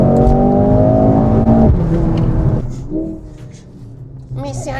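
The new Mercedes C63 with a four-cylinder engine revs loudly and close for a couple of seconds with a strong droning tone, then fades beneath voices talking.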